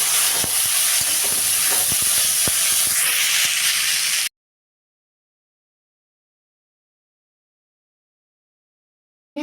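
Boiled, drained bottle gourd peel drops into hot oil with turmeric, setting off a loud, harsh sizzling hiss that lasts about four seconds and then cuts to silence.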